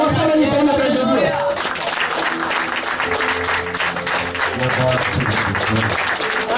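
A church congregation in Piçarras, SC claps together during a worship service. Dense, steady applause fills the room alongside music and singing voices, with a brief stretch of tonal sound at the start.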